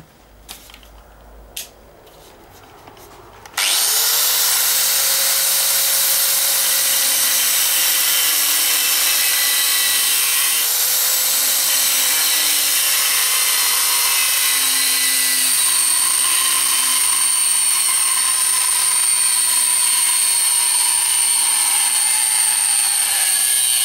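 A power tool cuts the tang off a steel file, a loud continuous whining grind starting abruptly after a few seconds of quiet bumps and holding steady to the end.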